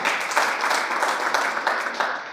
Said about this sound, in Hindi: उनके लिए भी जोरदार ताली हो जाए एक बार